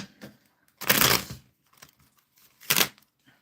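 Two brisk riffle shuffles of a tarot card deck, each a short crisp flutter, with small taps and handling noises between them.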